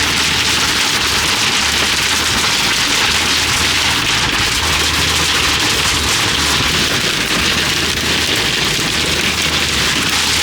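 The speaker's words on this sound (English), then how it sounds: "It's still hailing a lot, so much." Hail pounds loudly on a van's roof during a road trip through the Rockies, a dense, continuous roar of countless hard impacts with deep drumming underneath.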